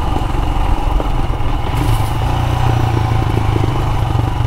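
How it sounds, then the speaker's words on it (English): A Royal Enfield Himalayan motorcycle in second gear on a rough back-country road, its single-cylinder engine a loud, steady, close drone with rattling clatter throughout. "Great little motorbike. It's just built for roads like this."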